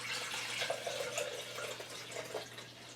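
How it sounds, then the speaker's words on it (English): Freshly pressed homemade anti-inflammatory juice pours out in a continuous liquid splash and trickle, fairly close and steady for a few seconds over a low background hum, with no talking. "Then we're going to go ahead and pour our juice out to see how much we pressed in one pressing."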